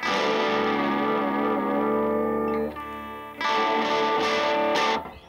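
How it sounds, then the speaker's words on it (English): Gibson SG electric guitar chords ringing out with wavering pitch vibrato from the neck being shaken, processed through distortion, chorus and echo effects, sustained and loud before a brief dip and a renewed strum. "you get a real vibrato out of the thing just by shaking the thing"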